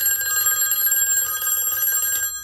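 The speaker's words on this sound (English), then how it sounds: "the phone should ring" A Northern Electric or Western Electric 500 telephone set's bell rings continuously and close up, a steady bright metallic trill running about two seconds before cutting off abruptly.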